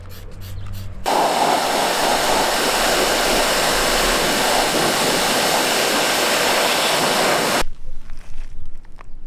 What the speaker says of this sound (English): we're going to soak this up with the foaming stuff, and then we're going to pressure wash it off